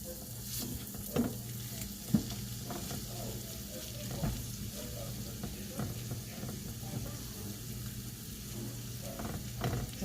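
Garlic sizzles in a pan while being stirred, a steady low frying hiss broken by scattered clinks and scrapes of the utensil.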